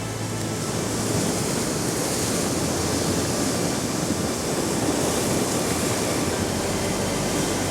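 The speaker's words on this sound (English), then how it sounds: "all I'm trying to do here is just capture some of these waves coming over the top" Ocean waves crash and wash over coastal rocks in a continuous loud roar of surf, with broad hissing spray that holds steady throughout and no voices.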